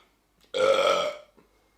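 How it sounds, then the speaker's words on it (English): A single loud, throaty burp lasting about half a second after a drink of Heineken lager canned in Amsterdam, close to the mic and alone against near silence. "so we're already starting the burps, are we?"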